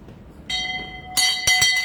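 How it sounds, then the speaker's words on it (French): A bell rings in Bangui. There are a few bright, ringing strikes with a sustained tone, and each strike is sharper and louder than the last. No one speaks. "cloche à sonner"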